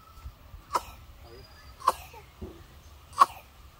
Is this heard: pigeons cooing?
no